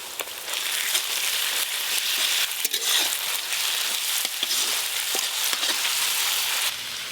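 Ginger garlic paste sizzles loudly in a hot pan of oil, a steady bright crackle with small pops running the whole time and no voices over it.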